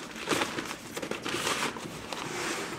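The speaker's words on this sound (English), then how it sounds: "place it in its plastic bag container thing" Plastic bag crinkling as an electric microscope is packed away in it, a run of close, soft rustling and crackling bursts with brief pauses, at low volume.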